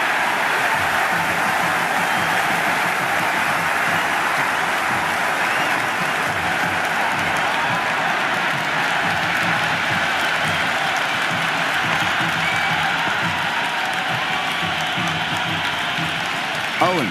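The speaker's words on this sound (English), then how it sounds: "There's an almost tangible fervour throughout the crowd at the moment." Steady roar of a stadium crowd cheering and applauding during an India versus Australia match in the video game Cricket 26, a dense, unbroken wash of sound held at constant loudness throughout.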